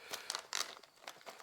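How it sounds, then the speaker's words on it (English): Dull scissors cut open a plastic bag that holds foam cannon parts. The close, faint crinkling and rustling of plastic comes in short irregular bursts. "Using my really dull scissors, we'll open it up here."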